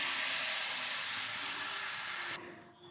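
Boiled dal poured into a pan of frying vegetables, giving a loud steady hiss and sizzle that cuts off abruptly near the end, leaving a faint quieter sizzle.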